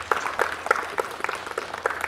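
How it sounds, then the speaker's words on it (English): Scattered audience applause at a Kenyan election-preparedness meeting, a loose irregular patter of hands clapping in a moderately sized room, fairly light and uneven. "Let's give him a round of applause."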